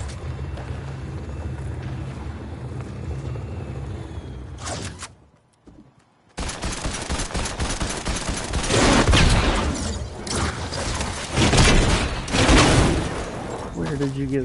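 Gunfire crackles in Fortnite on PS5, a steady rattle of rapid shots that briefly cuts out, then returns as louder, denser bursts, mixed with footsteps and people talking.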